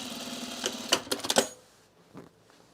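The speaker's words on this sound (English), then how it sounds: "I'm going to sew this pocket opening right here." A sewing machine stitching a pocket opening on corduroy trousers, a short clattering run of quick stitches near the mic that fades into near silence with one faint bump after.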